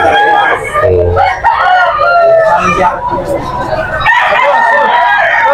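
A young black Talisay stag rooster crowing: loud, close, drawn-out crows over a busy background, with people talking around it.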